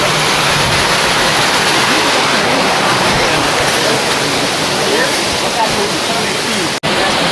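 Ouzoud waterfall in Morocco's Atlas Mountains roars as a loud, unbroken wall of rushing water that fills the whole span without letting up.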